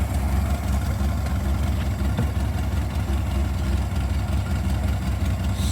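A 1996 Honda Gold Wing GL1500 motorcycle idles on full choke near 1,500 RPM, giving a steady, dense low engine drone that holds evenly throughout without talk.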